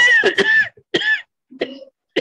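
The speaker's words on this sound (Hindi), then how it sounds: "किसी का तो पानी की कमी की वजह से खांसी आ रही है" A person coughs several times in short, close bursts, with pauses between the coughs, heard alone with no talk.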